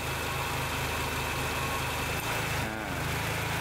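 A Honda Accord engine idles steadily with the air conditioning compressor running, a close, continuous low hum with a slight dip partway through and no talking.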